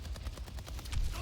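Rapid bursts of video game gunfire in a rattling, repeated volley, fairly faint and steady under a low background rumble during a charity live stream.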